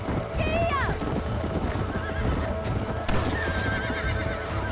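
A horse in the Red Dead Redemption video game gallops with rapid clip-clop hoofbeats and lets out high neighs and whinnies, under constant game sound and someone talking.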